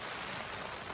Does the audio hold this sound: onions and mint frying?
no